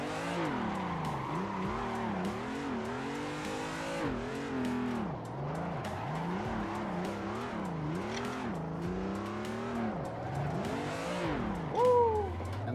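Car drifting in a racing video game, engine revs rising and falling in repeated sweeps with tire squeal and skidding, steady and moderately loud with no talking.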